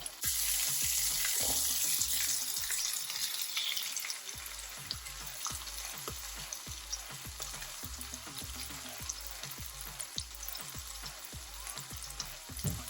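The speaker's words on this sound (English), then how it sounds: "now that we have our oil heated, we are now going to be adding our salmon" Salmon fillets sizzling in heated oil in a pan, a steady loud crackle with rhythmic spatter pops throughout, no talking.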